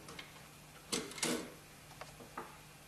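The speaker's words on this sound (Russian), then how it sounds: "И отсоединяется ударник." AS Val silent assault rifle being field-stripped, with its firing pin pulled free: a few sharp metallic clicks and a brief scrape close by, sparse and quiet against a faint background hum.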